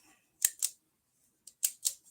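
The mechanical shutter of a roughly 100-year-old camera with a finicky shutter clicks in two quick pairs, crisp and close, with silence between them.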